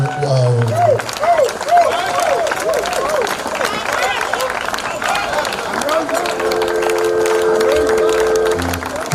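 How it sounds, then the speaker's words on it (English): An audience applauds and cheers at Jimi Solanke's 80th birthday celebration, a steady, dense roar of clapping and crowd noise mixed with voices and a tonal sound. "give Uncle Jimi Solanke a rousing round of applause"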